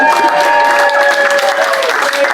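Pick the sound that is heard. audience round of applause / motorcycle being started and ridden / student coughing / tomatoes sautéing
audience round of applause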